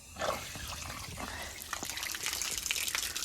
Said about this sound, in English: Just right on this running, bit of a drip there, look.